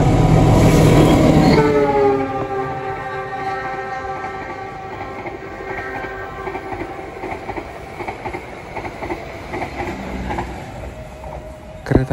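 A Sancaka passenger train passes close on a curve near Prambanan, opening with a loud rumbling approach that settles into a steady rolling roar of wagons, with a sustained horn-like tonal ring above the wheel noise throughout.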